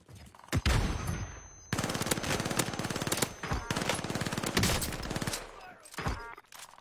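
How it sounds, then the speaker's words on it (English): Rapid automatic gunfire in a zombie video game, long loud bursts of machine-gun fire with brief pauses between volleys, close and harsh. "dude, this gun is so broken."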